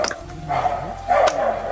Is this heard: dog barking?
yes